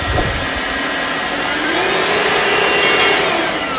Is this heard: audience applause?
no